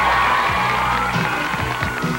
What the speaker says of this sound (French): Geneviève Sénécal, on l'applaudit.